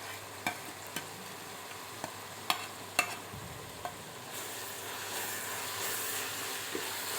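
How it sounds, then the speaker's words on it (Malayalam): Crushed green chili, ginger and garlic stirred in a hot pan for Thalassery dum biryani, with occasional sharp clicks of a spoon on the pan over a soft sizzle that grows into a steady hiss in the second half. "നമുക്കിതിൻ്റെ ഒരു പച്ച മണം മാറുന്ന വരെ നമുക്ക് ഇളക്കി കൊടുത്തുകൊണ്ടിരിക്കാം"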